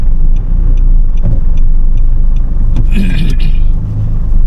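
A 4x4 vehicle's engine labours up a steep rural hill, a loud continuous low rumble with a brief rise in revs, heard close from inside or beside the vehicle.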